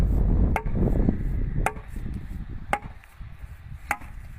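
Stone being chopped by hand with a mason's tool gives four sharp, evenly spaced strikes about a second apart, ringing out over a low, rumbling background.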